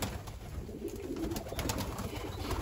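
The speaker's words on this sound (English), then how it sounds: "Those are baby birds" Pigeons or doves coo softly near their nests, with low, repeated calls set against a steady, hissy outdoor background.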